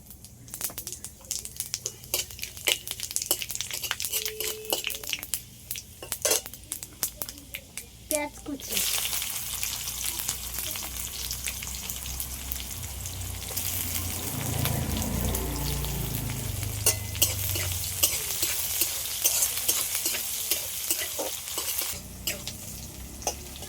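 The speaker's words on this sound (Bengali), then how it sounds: "অল্প করে পাঁচ ফোড়ন দেবো" Panch phoron spices crackle and sizzle in hot oil in a home kitchen while cooking fish-head moong dal with taro greens, a steady frying hiss with clattering stirring, running water at points and faint voices in the background.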